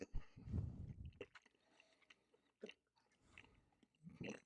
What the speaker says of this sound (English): I'll answer your question when I'm done chewing this.